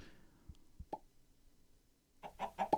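Purple slime chickens in the Minecraft modpack StoneBlock 2 give a few soft, scattered clucks and plops, then a quick burst of louder clucking near the end, all fairly quiet.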